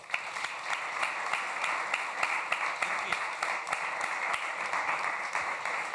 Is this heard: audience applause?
yes